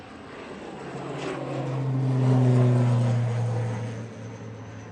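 An airplane climbing out of Manchester Airport bound for Dublin gives a steady engine roar that swells to a peak midway, then fades slightly as it passes overhead.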